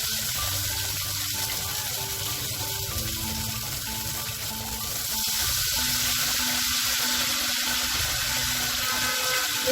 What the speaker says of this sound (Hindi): अब इसमें हम थोड़ा सा और बैटर डालेंगे